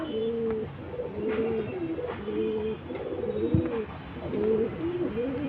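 Pigeons coo repeatedly nearby, soft throaty rolling calls overlapping in a steady rhythm against a quiet background.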